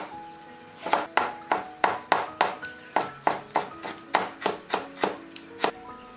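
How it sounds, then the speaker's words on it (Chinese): A knife chops through soaked onion on a cutting board, making about fifteen crisp, evenly spaced strikes that come close and clear with no talking. "再把泡好的洋葱也切碎"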